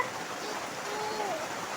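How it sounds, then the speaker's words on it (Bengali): Rain falling outdoors as a steady, even wash of hiss, soft and constant, with a voice speaking over it. "আর এখন তিনটে বাজে এখন আবার বৃষ্টি নেমে গেছে"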